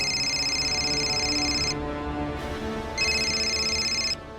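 A telephone rings in two bursts with a short gap between them, steady and fairly clear against a low background hum, with no talking over it.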